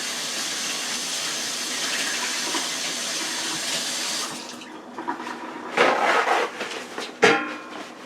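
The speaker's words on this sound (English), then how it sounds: "Let me wash my hands." A kitchen tap runs in a steady gush while hands are washed during pork roast preparation, then the flow cuts off, leaving a few splashes and clatters.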